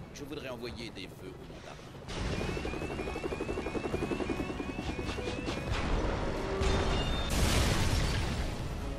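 Helicopter in the LEGO Marvel's Avengers video game, a rotor whir and mechanical clatter building from about two seconds onward, mixed with game effects, bursts and background music under a talking voice.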